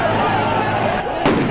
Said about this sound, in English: Then they fired tear gas